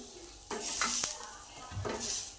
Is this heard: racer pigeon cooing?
no